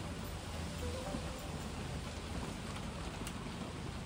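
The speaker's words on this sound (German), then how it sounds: "es regnet in Strömen. Ist richtig heftig gerade." Heavy downpour outdoors during a fierce rainstorm, a steady, even hiss of pouring rain at low level with no voices and no breaks throughout.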